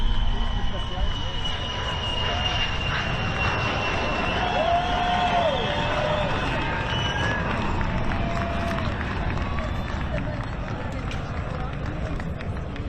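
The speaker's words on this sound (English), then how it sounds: "And what a beautiful takeoff, ladies and gentlemen." Virgin Galactic's carrier aircraft, Mothership Eve, takes off on a runway, its jet engines a broad, steady roar with a rising whine, heard under continuous live commentary and distant crowd noise.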